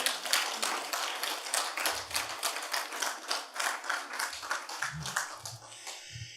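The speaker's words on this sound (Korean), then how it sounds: "우리의 박수로 영광 올리겠습니다" A church congregation applauds during a worship seminar, a dense sustained burst of clapping that holds steady for several seconds before thinning into a few scattered final claps.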